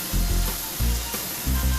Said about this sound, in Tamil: தக்காளி வெங்காயம் வதங்கிட்டு இருக்கும்போதே